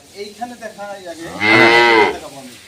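A dairy cow on a cattle farm lets out one loud, drawn-out moo up close, preceded by softer, lower grunting calls.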